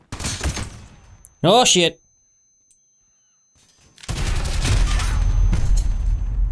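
Gunfire from a heavy gun in Modern Warfare bursts out in a few loud, rapid shots. A person exclaims over the noise, and after a quiet pause a dense volley of shooting returns.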